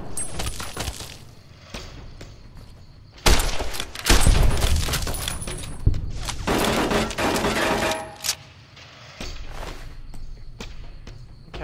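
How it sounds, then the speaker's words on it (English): Enemy gunfire in Fallout New Vegas, bursts of loud shots and rapid volleys coming in clusters, broken by short quieter gaps with footsteps and clatter. "Oh no, his friends are up there shooting me."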